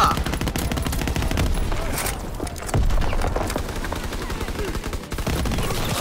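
Battlefield gunfire from Call of Duty WWII with infantry fighting near a tank: dense, continuous rattling bursts of rifle and machine-gun fire with a few heavier booms, loud and sustained throughout.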